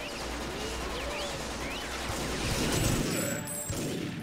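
Rapid gunfire and explosions from the TimeSplitters video game form a dense, continuous barrage with overlapping shots, and heavier bursts come toward the middle.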